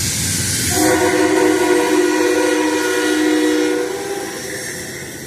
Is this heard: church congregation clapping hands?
no